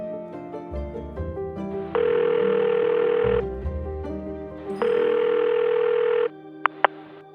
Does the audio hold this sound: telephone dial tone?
yes